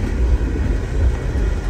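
A passing freight train of mostly empty cars gives a loud, steady low rumble with rolling mechanical noise close by, continuous and unbroken through the short stretch.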